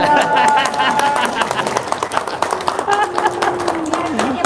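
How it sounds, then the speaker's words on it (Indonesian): A crowd claps after a cue during a spoken gathering, a loud, somewhat uneven patter of hands running throughout, with a voice and tonal sounds layered over the clapping. "Tepuk tangan."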